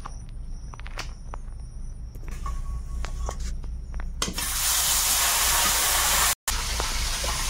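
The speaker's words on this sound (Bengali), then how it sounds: "কড়াইতে, এবারে তেল দিয়ে দেবো।" Oil is poured into a hot wok and starts sizzling. After a few quiet clicks and light knocks, a sudden loud, steady hiss takes over midway, drops out briefly near the end, then resumes.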